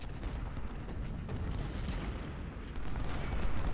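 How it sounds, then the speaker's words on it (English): Continuous rumbling battle din of artillery and massed gunfire in a Civil War strategy game set on Hall's Ferry Road near Vicksburg, a dense, steady roar that swells louder toward the end, with no voices. "let's get our artillery starting to fire on these guys"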